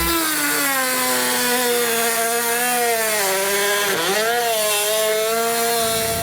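A power tool cuts through a plastic panel being trimmed to fit a trailer hitch on a 2014 Toyota Highlander, a loud, continuous whining saw tone that dips briefly in pitch midway, heard close and alone.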